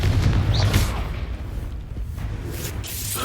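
Confringo and Expulso spell blasts in the Hogwarts Legacy video game: booming, whooshing explosions layered over one another, loud and continuous, with a heavy low rumble and bright swishes throughout.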